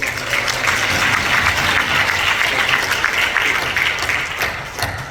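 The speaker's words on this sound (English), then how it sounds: "Let's give her a massive round of applause." A crowd applauds steadily, dense clapping from many hands that holds for several seconds and then begins to fade toward the end.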